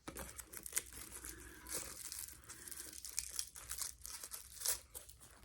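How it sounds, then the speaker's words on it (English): Paper wrapping crinkles and tears as it is pulled off the gunmetal hardware of an MZ Wallace Aurora sequin Mini Metro City tote, a quiet run of close rustles and crisp rips. "Let me take the paper off of the hardware."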